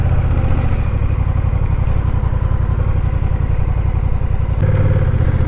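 Honda Rebel 1100 motorcycle engine pulling along a country road in Thailand, a steady, loud, close throbbing drone with a shift in pitch near the end, no voices.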